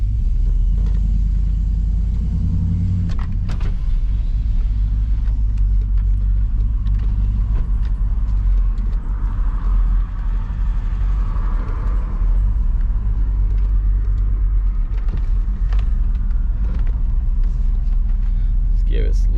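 Car fitted with a Texas Speed cam pulling away down a road, heard from inside as a loud, constant low engine rumble that swells briefly, with a voice talking over it.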